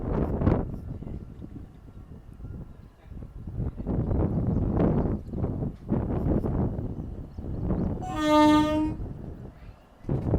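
Harihar–Hospet passenger train rumbling and clattering close by, with one loud horn blast around eight seconds in over the steady rolling noise.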